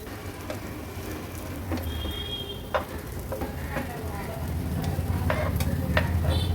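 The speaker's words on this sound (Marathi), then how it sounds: "एक एक करून सर्व ही वांगी मी पलटून घेते" Eggplants frying on a low flame and turned over one by one in a Maharashtrian winter thali preparation, a continuous sizzle with scraping stirs and spatula taps that grows slightly louder toward the end.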